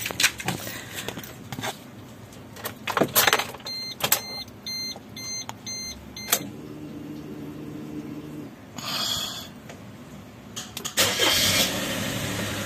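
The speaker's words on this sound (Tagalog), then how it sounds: "Ngayon itatry kong i-start para mag-circulate yung langis." Suzuki Celerio Gen 2 car engine starting after an oil change: several electric chimes and clicks, a brief cranking, then the engine catching into a steady, fairly quiet idle, recorded close by.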